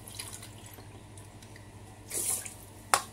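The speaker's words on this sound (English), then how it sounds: "So then I come and put water." Tap water runs into a pot of rice being prepared for cooking, quiet trickling and splashing that swells into a brief louder gush, followed by a sharp clink near the end.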